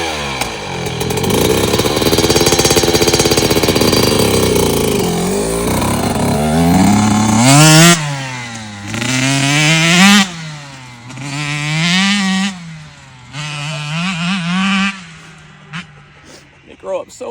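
Two-stroke dirt bike engine running on race fuel, opening with a sustained high buzz, then blipped repeatedly through sharp rising and falling revs, loud and close, with voices talking over parts of it.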